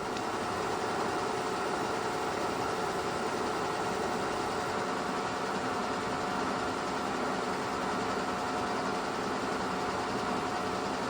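A milling machine's oil pump runs with a steady, even mechanical hum and hiss as it pushes cutting oil across a ball valve being cut for a key slot. The drone is constant and close for the whole span, with no talk.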